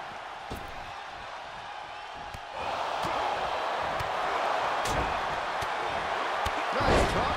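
Crowd noise from a wrestling video game during a Royal Rumble match, a steady roar that swells after a few seconds and holds loud, with sharp impact thumps cutting through and commentary voices talking over it.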